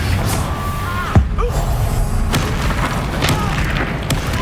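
A Confringo blasting curse goes off in the Hogwarts Legacy video game, a single sharp boom that hits hard and then rumbles out under a steady bed of game noise and music.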